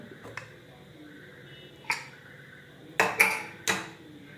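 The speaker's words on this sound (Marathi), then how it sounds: "आता आपण झाकण काढून बघूया." A pressure cooker lid is handled and removed after cooking mutton, giving a few sharp metallic clanks spaced irregularly against a quiet background.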